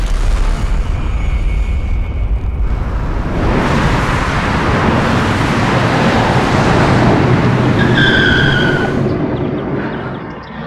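A car being driven, a loud continuous rumble of engine and road noise with a rushing swell partway through and a brief high tone near the end.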